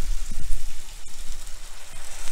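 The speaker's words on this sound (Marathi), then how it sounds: "त्यामध्ये आता मी गरम पाणी घालते." Hot water poured into a pan of soaked, drained rice with salt for pineapple rice, giving a steady close hiss and sizzle with bubbling crackle throughout, no voices.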